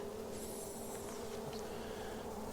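Honey bees hum around a hive in a faint, continuous buzz, with a single bee's whine passing close and then fading.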